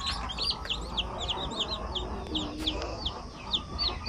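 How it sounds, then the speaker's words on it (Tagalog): Freshly hatched chicks from an incubator chirp continuously in a close, busy chorus of high peeping calls over a steady low background hum. "Mga sisiw na galing sa incubator."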